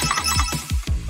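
A busy electronic phone ringtone in a cartoon-style school prep game plays quick warbling, bouncing tones in a lively rhythm, loud and close with no speech.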